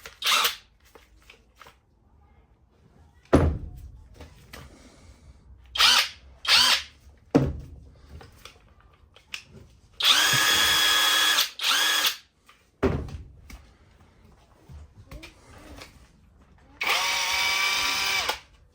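Cheap cordless impact wrenches rated at 1700Nm whir and rattle in several separate trigger pulls, short bursts and longer runs, with quiet clicks and handling noise between them.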